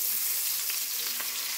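Seasoned zucchini, squash, onions and peppers sizzle in a skillet, a dense, even hiss running unbroken throughout at close range, with no voices.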